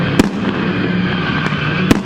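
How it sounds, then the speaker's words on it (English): Fireworks going off over a busy nighttime car meet, with sharp pops at about 0.2, 1.5 and 1.9 seconds, each standing out clearly above a steady crowd and engine rumble. "I haven't seen fireworks in a minute."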